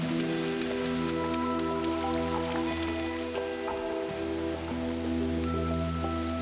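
Steady, dense rain pours down in the West China rain zone, a continuous close hiss of drops striking leaves and surfaces with scattered louder splats, no voices.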